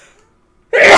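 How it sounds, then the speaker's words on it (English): A single sharp, loud sneeze bursts out abruptly after a moment of near silence, close to the microphone. "That was a sneeze."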